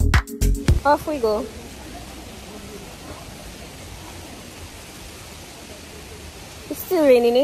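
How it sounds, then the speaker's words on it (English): Steady rain falls throughout an all-day downpour in Dominica, forming a continuous broadband hiss. Brief voices and bumps sound near the start and again at the end. "It's still raining, eh? It's been raining all day."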